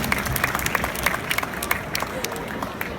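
Audience applause at a Q&A session in Brussels, a moderate spread of clapping with sharper individual claps standing out, heard somewhat distant with crowd murmur underneath.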